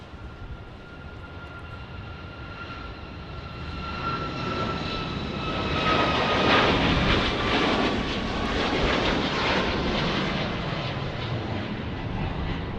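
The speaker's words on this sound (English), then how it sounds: "Next departure, Southwest 4784, 737 Max 8, going to Austin, Texas" Southwest Boeing 737 Max 8 jet departing Dallas Love Field for Austin, its engine roar building steadily into a loud, sustained broadband rumble with a faint whine.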